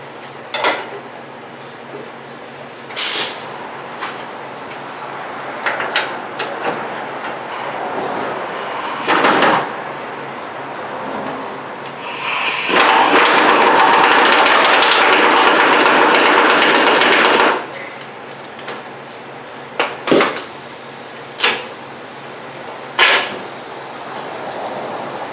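A tool removing a bolt from a 2000–2006 Toyota Tundra during rack and pinion replacement, heard as scattered sharp metallic clanks and knocks plus a sustained whirring burst of several seconds midway, alone without talk.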